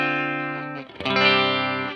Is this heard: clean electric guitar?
yes